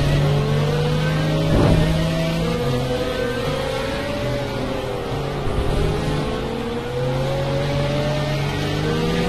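Several Pagani Zonda engines drone and whine together in a racing video game, their steady pitches rising and falling as they rev and shift, and one brief louder surge passes close by.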